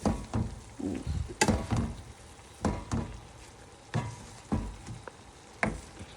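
Chicken, shrimp and kale stir fry sizzling in a pan, under a low continuous frying hiss broken by regular knocking scrapes of a utensil against the pan every second or so, close and moderately loud, with no talk.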